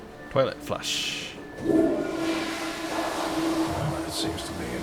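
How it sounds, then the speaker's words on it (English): In Wolfenstein: The New Order, a toilet flushes with a rising rush of water that swirls and drains away over several seconds, while someone talks over it. "Toilet flush."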